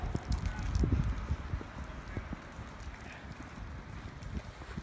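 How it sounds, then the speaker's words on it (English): During a winter storm in New York City, wind blows snow off the trees, making a low, steady, rumbling rush with gusty microphone buffeting throughout. "Wow, listen to that wind. Not just wind gusts. Blowing off the trees, the snow."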